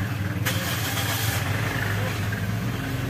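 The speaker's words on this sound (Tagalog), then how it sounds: "start ko na nga itong makina." Toyota Altis engine starting in a mechanic's shop, with the car known for a high idle after starting that is slow to drop; a loud crank catches into a steady rumbling idle close by, with someone talking over it.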